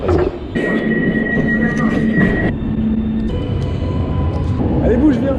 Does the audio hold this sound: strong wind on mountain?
no